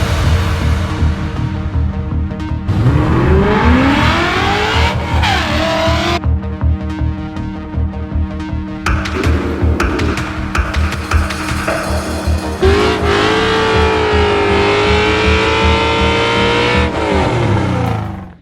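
A Coyote-swapped Fox body Mustang engine revs hard and continuously, rising and falling through loud sweeping pitch changes with brief tire squeal, close and dominant throughout.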